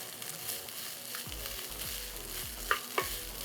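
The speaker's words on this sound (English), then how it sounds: "I'm going to give a complete full mix" Coconut rice is tossed and mixed in a pan: a soft continuous sizzle with a few quiet scraping stirs and two sharper clinks of the spatula near the end, faint and close, no talking.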